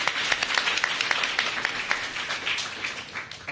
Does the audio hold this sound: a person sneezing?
no